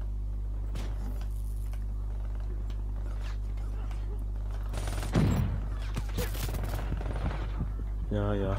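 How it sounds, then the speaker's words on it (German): Gunfire in the video game Call of Duty Black Ops 3, with a sharp burst of shots partway through and scattered further bursts afterward over a constant low background hum. "Wo kamen jetzt die Schüsse?"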